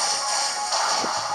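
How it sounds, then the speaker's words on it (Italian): A slashing Leaf Blade attack from the Pokémon Alpha Sapphire video game, a loud, close synthetic swish sustained for over a second and ending in a sharp hit, with no speech. "E vai di fendifoglia."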